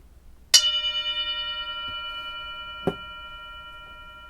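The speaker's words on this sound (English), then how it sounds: "I'm going to ring the bell." A meditation bell is struck once with a bright, clear ring that hangs and slowly fades in gentle pulses. A softer second strike follows a couple of seconds later in an otherwise quiet room.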